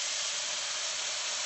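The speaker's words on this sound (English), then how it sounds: "your skillet is hot and you're going to get instant steam" Liquid poured into a hot skillet gives off a steady, loud hiss of instant steam that continues without a break.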